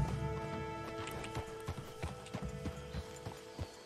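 Horse hooves clip-clop in Red Dead Redemption 2 as horses appear, a steady run of fairly close hoof strikes over a constant game background hum, with a faint whinny possible.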